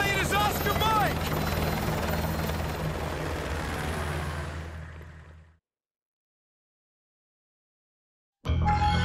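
A helicopter in the video game Call of Duty: Modern Warfare 2 drones loudly with a steady low rotor thrum under a voice for about five seconds, then cuts to silence before a brief burst of sound returns at the end.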